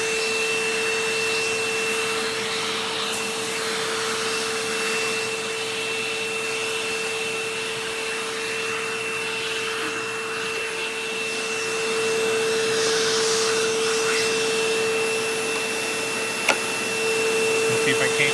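A Dirt Devil Ultra MVP 089200 upright vacuum with a broken bracket runs close by with weak tool suction, a loud steady motor whine and airflow roar that holds for the whole stretch, with a person talking over it.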